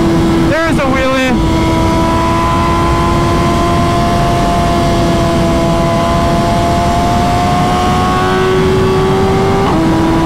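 A 2023 BMW S1000RR motorcycle engine held at a loud, steady high-pitched drone during a wheelie, with a sharp rev at the start and a pitch shift near the end, heard over wind noise.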